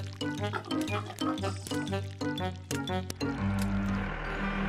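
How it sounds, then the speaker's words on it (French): Piglets oink and grunt repeatedly over squishy, wet mud splashing in an animated cartoon, with music playing underneath. "Les cochons se baignaient dans la boue."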